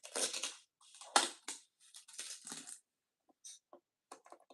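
Packing tape peeled off the box of a Brother PE570 embroidery machine, several crackly ripping strips close to the mic, then a few brief quieter crinkles and ticks with short silences between.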